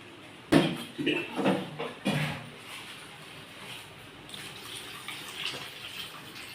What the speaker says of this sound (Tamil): தேவையான அளவு தண்ணி ஊற்றிக்கலாம்.